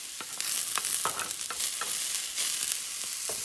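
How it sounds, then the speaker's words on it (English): Onions sizzle and caramelize in a hot pan, a steady close frying hiss broken by a few scraping stirs, with no talking. "I'm just going to let the onions do a little caramelization there"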